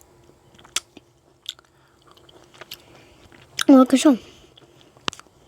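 Folded candy being bitten and chewed close up, with a few sharp crunches, a loud burst of crunching near the middle, and soft talk between bites.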